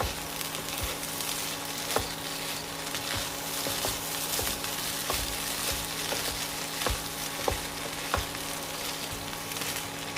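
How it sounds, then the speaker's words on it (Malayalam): Palak rice gets tossed with lemon juice in a hot pan, a constant sizzling hiss with regular light taps and scrapes of a spoon mixing it, and no one speaking. "ഇതിലേക്ക് നാരങ്ങാ നീര് ചേർക്കാം നന്നായിട്ട് ഇതൊന്ന് മിക്സ് ചെയ്യണം"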